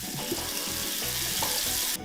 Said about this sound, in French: Ferme le robinet, allez!